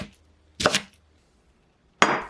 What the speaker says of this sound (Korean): 쪄낸 양배추는 먹기 좋게 자르세요.